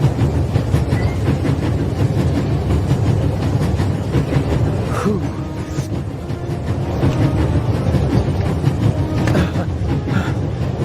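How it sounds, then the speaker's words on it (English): A train in the video game The Raven rolls along its rails with a steady, loud rumble and rhythmic clatter that continues without a break. "Nothing quite like traveling on a train."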